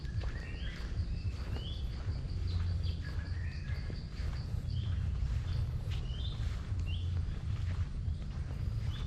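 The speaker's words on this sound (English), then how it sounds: "many different birds are singing" Many birds sing and chirp in thick jungle inside Angkor Thom near Siem Reap, Cambodia. Bright, scattered calls ring out over a constant low rumble and soft footsteps on a walking route.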